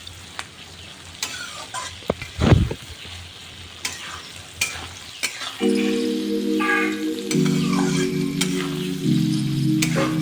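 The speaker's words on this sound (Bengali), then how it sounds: "পেঁয়াজগুলো খুব ভালো মতন ভেজে নেব যতক্ষণ না পেঁয়াজ থেকে কাঁচা গন্ধটা বের হচ্ছে" Onions fry in oil in a pan, giving a close crackling sizzle broken by spatula stirs and clinks. A loud scrape comes early on, and a steady tonal hum joins in the second half.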